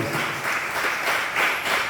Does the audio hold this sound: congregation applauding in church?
yes